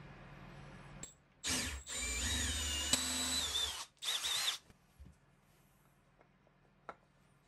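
A power drill boring a small hole into wood for a hand plane holder whines in three bursts, two long runs and a short one, close and loud in a quiet workshop, followed by faint clicks and handling noise.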